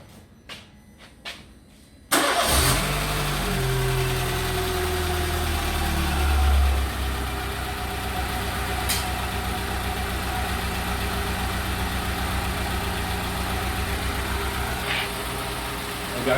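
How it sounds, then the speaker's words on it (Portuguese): A Peugeot 207 fires up after a couple of faint clicks, catching abruptly and settling into a steady, close idle that runs on evenly with a slight hum and no talking. "Agora eu vou ligar o carro"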